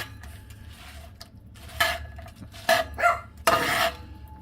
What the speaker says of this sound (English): My dog is, of course, barking at the noise that I am making.